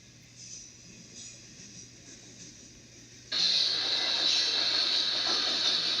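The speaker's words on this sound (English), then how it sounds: "That is Amtrak number 3 pulling in." Amtrak passenger train number 3 pulls in, a faint rail rumble with squealing wheels that swells abruptly into a loud, steady hissing roar midway, with no voices.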